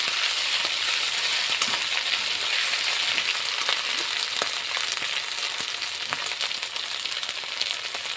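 Okra (bhindi) fries in hot oil as ginger-garlic paste goes in, giving a loud, continuous, hissing sizzle with scattered crackles and light stirring scrapes, close and uninterrupted.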